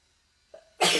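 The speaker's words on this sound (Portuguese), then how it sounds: "Tá me dando vontade de espirrar de novo." A single close sneeze, a short nasal intake followed by a sudden loud burst of breath that ends the moment.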